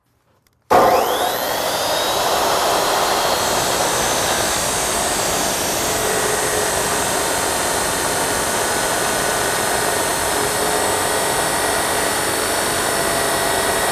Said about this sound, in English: I'll dome my striking surface with the grinder